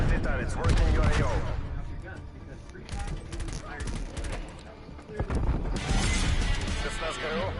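Hostile sentry turrets fire in a video game, with loud bursts of automatic gunfire and crashing impacts that come in waves, easing midway and then intensifying again, with a voice speaking over the fighting.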